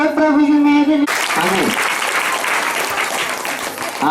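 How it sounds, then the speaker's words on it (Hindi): Loud, sustained applause from a congregation at a Hindi-language Christian church service, breaking in suddenly after a spoken line and continuing as a dense clatter of hands with a voice rising over it. "जोरदार ताली से धन्यवाद है।"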